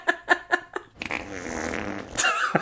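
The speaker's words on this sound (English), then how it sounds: "Responds with a fart." A fart at a wrap party, following a few short sharp bursts, then a longer sputtering rasp of about a second, with a brief laugh-like sound after it.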